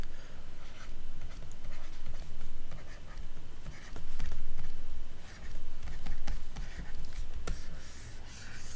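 Hand-writing an optimization equation, likely chalk or pen on a board: continuous scratchy strokes with brief taps and pauses, close and fairly steady, no talk over it.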